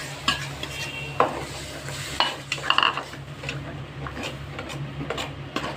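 Ground tomatoes hitting hot oil in a pan, sizzling steadily while a spoon stirs and clinks against the metal in irregular knocks, close and unaccompanied by speech.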